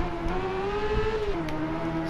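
Honda CB650F naked motorcycle engine in the RIDE racing game, a steady high revving inline-four whine that rises slightly and then dips as it shifts, close and alone.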